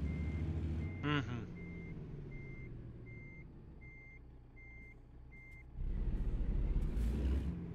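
Steady, evenly spaced reversing beeps from a truck with a long 53-foot trailer in American Truck Simulator, over a low engine rumble that grows louder near the end, with a brief murmured reply from a voice.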